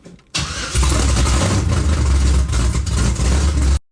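A Pontiac small-block V8 with a newly installed Progression ignition cranks and tries to catch. Loud, rough, sputtering engine noise kicks in abruptly and runs unevenly for about three seconds before cutting off sharply.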